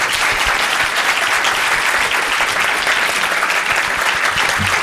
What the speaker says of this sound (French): Je pense qu'on peut l'applaudir parce qu'elle a été très généreuse